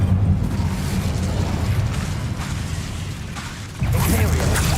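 An Incendio fire spell from Hogwarts Legacy gives off a sustained roaring, crackling burst of flame with boomy low rumble, then a fresh surge near the end, loud and close.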